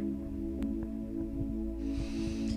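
A sustained, dark synthesizer pad with low filter cutoff for drum and bass holds steady low tones with a muffled character, a few soft clicks over it and brighter hiss near the end.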